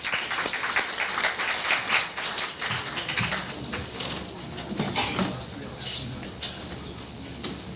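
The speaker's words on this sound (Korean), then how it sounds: "다 같이 박수로 환영을 해주시기 바랍니다" A lecture audience at Korea University claps together in a lively, sustained round of applause that swells and then gradually thins out.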